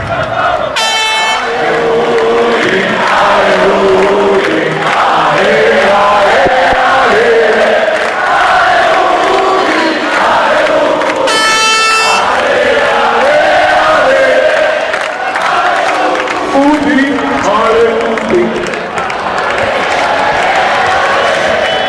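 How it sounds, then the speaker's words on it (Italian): A large crowd at an Udinese football club celebration roars and cheers continuously, with blasts of air horns cutting through twice and loud, sustained, chanting-like crowd noise. "Ancora un applauso fortissimo."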